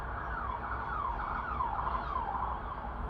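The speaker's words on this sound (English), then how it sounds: "I don't even know what kind of siren that was." An emergency vehicle siren wails through a New York street, a fairly distant, faint rising-and-falling tone repeating over steady traffic rumble.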